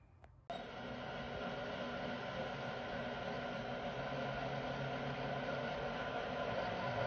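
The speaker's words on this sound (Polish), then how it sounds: "Kawa idzie do mikroweli, bo zimna jest już" Microwave oven heating a cold cup of coffee: a steady, even whirring hum starts abruptly after a brief click and runs on unchanged, close and moderately loud, with no talking.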